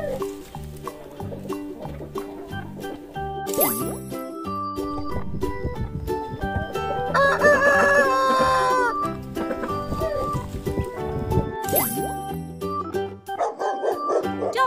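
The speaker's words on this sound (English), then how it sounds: "Chicken! Chicken!" A farm rooster crows loudly amid clucking chickens, set against cheerful backing music with a barking dog nearby.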